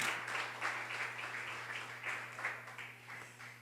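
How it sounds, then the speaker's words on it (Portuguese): A church congregation claps in worship, the hands falling into a loose repeating rhythm of bursts, fairly soft and somewhat distant over a constant low electrical hum. "Que as palmas louvem o nome do Senhor"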